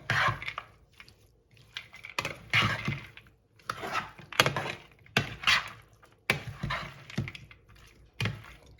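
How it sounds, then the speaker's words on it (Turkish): Spoon stirring a green olive salad with walnuts and red pepper flakes in a bowl, giving a series of rhythmic, close scraping and clattering strokes with short pauses between them. "Cevizini ekliyorum. Şöyle karıştırıyorum."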